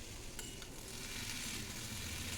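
Carrot and sweet potato pieces fry in hot oil in a wok with potato, a steady soft sizzle and crackle throughout, quiet and close with no talking.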